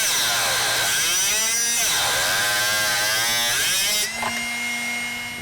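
A Drill Doctor 750x drill bit sharpener runs with a loud, steady electric motor whine, with sweeping rises and falls in pitch as a bit is pushed in and ground, then a slight drop in level near the end.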